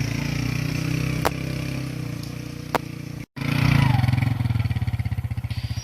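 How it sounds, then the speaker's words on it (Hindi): A motorcycle engine runs steadily while riding, a loud close drone with a pulsing throb that grows more pronounced after a brief cut, and a voice speaks over the engine. "इसलिए हमने बाइक निकाला है और अभी आगे जाएंगे"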